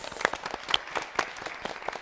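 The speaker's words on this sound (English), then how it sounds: "Give him a round of applause." Light, scattered applause from a small group, a brief patter of claps that stays fairly quiet.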